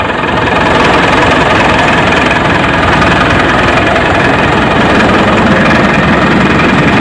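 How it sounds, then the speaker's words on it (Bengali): A boat engine on a Sundarbans tour boat idles steadily nearby, a constant loud mechanical drone with a low knocking throb and no pause. "এবং সামনে রয়েছে ইঞ্জিন।"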